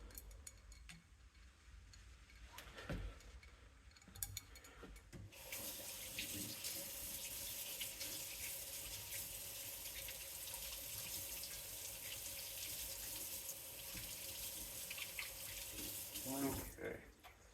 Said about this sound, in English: I'm going to take these over, get them washed off, and take a quick peek